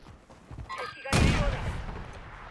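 In a video game, after a brief quiet moment, a sharp burst of gunfire cracks out and rumbles away, with a faint voice nearby.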